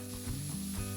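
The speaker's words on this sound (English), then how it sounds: "Once the oil is hot, add the finely cut onions." Finely cut onions hit hot cooking oil in a thick-bottomed pan over medium heat, giving a loud, continuous sizzle that swells slightly partway through and holds steady, with no voices.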